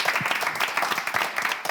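Studio audience at a French television quiz show clapping for contestants, a brief dense burst of many hands applauding, steady and moderately close.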